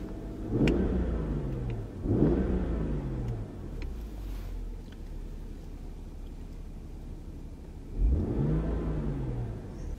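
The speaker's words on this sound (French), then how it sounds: "La pédale d'accélérateur si j'appuie. Ça change." A parked car's engine revs up three times as the accelerator pedal is pressed, each rev rising and falling back to a low steady idle, close and fairly loud with no talk.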